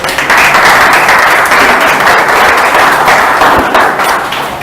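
Loud, sustained applause from a church congregation, dense clapping filling the whole stretch before tapering slightly at the end.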